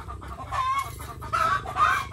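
Hens laying eggs on a rural farm, several birds giving repeated short clucks and calls at close range, with busier bursts near the middle and end and no talk over them.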